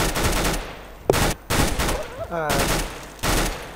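Rapid bursts of automatic gunfire in the video game CS:GO, several loud volleys separated by short pauses, with a brief voice over the shooting.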